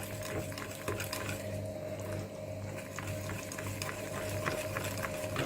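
A whisk beats milk batter in a bowl for crispy chicken strips, producing a continuous soft wet sloshing with rapid clicking strokes against the sides, close and fairly quiet under a steady background hum.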